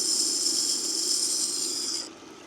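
Steady broadband hiss of water flowing over a Tormek T4 bushcraft sharpening stone during knife sharpening outdoors, constant and close for about two seconds, then dropping off abruptly.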